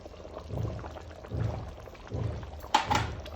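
Thick tamarind fish pulusu simmers hard in a pot on the stove, thick bubbles bursting in a slow, steady rhythm about once a second, close by with no talking.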